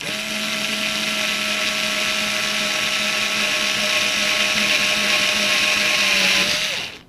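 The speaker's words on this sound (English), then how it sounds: "when drilling this screw into this regular 2x4 piece of wood" A power drill drives a screw into a regular 2x4 piece of wood with a steady high motor whine for about seven seconds, holding one pitch before slowing and cutting off at the end.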